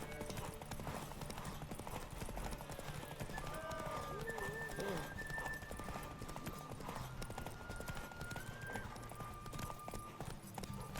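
Roach, the horse in the video game The Witcher 3, clip-clopping in a steady hoofbeat rhythm throughout, under game music and other ambience.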